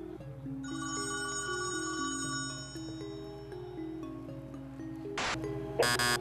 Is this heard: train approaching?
no